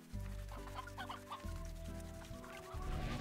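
Chickens in the video game Slime Rancher cluck repeatedly over a steady musical backdrop, the bird calls fairly clear and close with no voices present.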